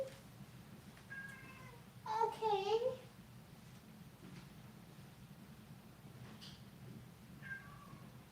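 A cat lets out a drawn-out, wavering meow, mournful and fairly close, with a few fainter mews before and after and a brief spoken word.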